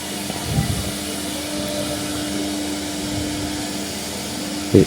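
A computer-controlled robotic carving machine runs with a steady mechanical drone and whine, holding an even level before a brief thump at the end.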